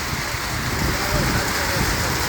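The first monsoon rain falls in a dense, continuous hiss, loud and close, with no break across the short stretch.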